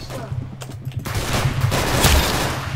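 Gunfire in the Roblox shooter Arsenal, a loud volley of several rapid shots layered over one another, building toward a dense burst near the end.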